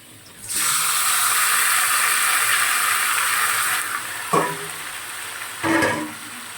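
Marinated chicken tipped into a pan of fried potatoes and onions, a loud sudden sizzle that holds steady for several seconds, then two brief scraping bursts.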